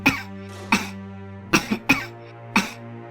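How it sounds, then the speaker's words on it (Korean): A person coughs several times, sharp and close, with the coughs spaced unevenly over about three seconds and a sustained musical tone running underneath. "지금 누가 기침 소리를 내었어?"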